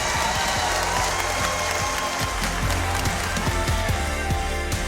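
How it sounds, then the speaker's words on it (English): A conference audience applauds a panel discussion on cyber crime, producing dense, steady clapping that fills the room evenly from start to finish with no pause. "So big round of applause for this fantastic panel."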